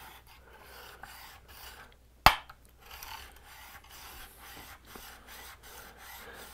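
A blade is drawn across a fine sharpening stone in soft, repeated rubbing strokes, close and quiet, with one sharp scrape or knock partway through.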